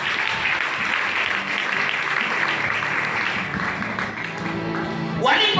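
A church congregation applauds together in sustained, even clapping that fills the space, with voices mixed in beneath the claps.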